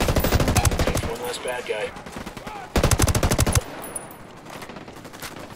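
Automatic rifle fire in Ghost Recon Wildlands, with two loud rapid bursts of close shots separated by quieter gameplay ambience and a brief spoken line.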